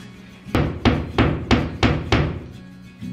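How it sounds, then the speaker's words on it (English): Six evenly spaced mallet blows fixing wood to a wall, solid and close, each thud ringing briefly before the next. "We lost our hammer, so we're using a mallet."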